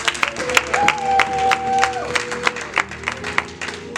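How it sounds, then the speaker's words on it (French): A church congregation at a sermon claps steadily for several seconds, a dense and fairly close sound with a sustained tone and faint voices underneath. "Acclamons pour la parole du Seigneur."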